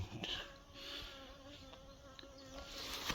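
Native Korean honeybees swarm around a wooden hive as a wild colony moves in, making a steady, soft droning buzz that stays even throughout, with a few louder passes close by.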